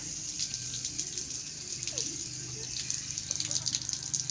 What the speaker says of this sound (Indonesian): Cuci mangkuknya.